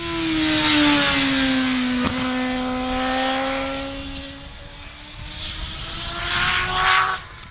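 A high-revving Suzuki sport motorcycle engine of 202 horsepower howls steadily, its pitch dipping and rising, loud and close with a sharp rev around the middle.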